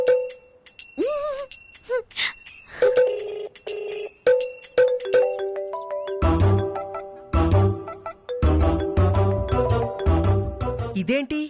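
A phone rings with an incoming video call, its melodic electronic ringtone repeating in bright, regular chimes, clear and close, with a person's voice heard briefly between rings.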